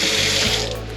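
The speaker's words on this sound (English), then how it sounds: "I need a cup and I'm gonna top it off with water" Water from a kitchen tap runs into a cup while a beef soup is being made, with a steady close splashing rush that fills the whole moment and no talk.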